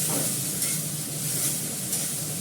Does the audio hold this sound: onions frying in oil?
yes